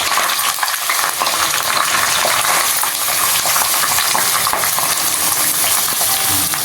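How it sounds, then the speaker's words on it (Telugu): Chopped onions with a little coriander leaf and turmeric frying in a pan for a South Indian murrel fish curry give a steady, close, continuous sizzle with faint stirring scrapes and no pauses. "ఇప్పుడు బాగా వేగాలి ఆనియన్స్"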